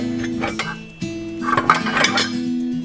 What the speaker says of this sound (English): lift up my little pot, or lift things up and pull out this bottom pan